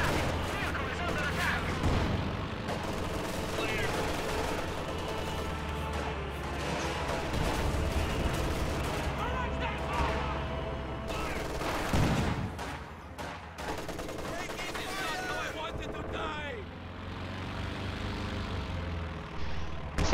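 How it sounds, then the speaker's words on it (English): Rapid gunfire from an aircraft strafing run in a video game, with dense, continuous bursts and heavy battle noise rumbling throughout, loud and unbroken. "Second strafe pins the infantry down again"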